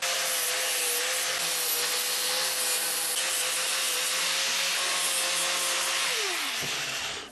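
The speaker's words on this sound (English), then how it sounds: "The only way I can fix that is with this angle grinder." An angle grinder smoothing the jagged edges of a metal spray can rack, a loud, steady high-pitched grinding that runs continuously for about seven seconds, with the motor pitch dropping as it winds down at the end.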